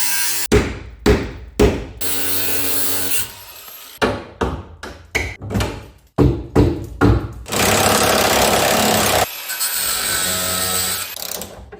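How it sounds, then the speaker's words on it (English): An angle grinder cutting off a welded nut on a Golf MK2 during restoration: several short, harsh grinding bursts with brief gaps, then longer sustained cuts. The sound is loud and close, with no voices. "I think I'm gonna have to cut it off with the angle grinder"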